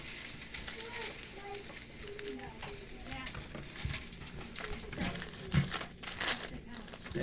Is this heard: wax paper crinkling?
yes